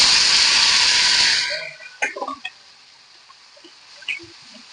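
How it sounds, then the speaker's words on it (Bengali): Snakehead fish pieces fry in oil in a wok, with a loud, hissing sizzle for the first second and a half that cuts off sharply, followed by a few light metallic clinks and taps in near silence. "আমি মাছ ভাজার জন্য কড়াইতে পরিমাণ মতো তেল দিয়ে নিয়েছি"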